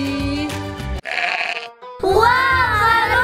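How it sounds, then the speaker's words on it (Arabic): Sheep bleating loudly and close, a few drawn-out wavering calls with a short pause between them, at an Eid outing in the open countryside. "خروف"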